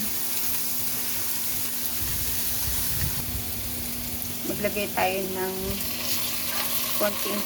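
Fried tofu with meat is stirred in a sizzling pan, a steady frying hiss with utensil scrapes, while a person talks briefly over it partway through.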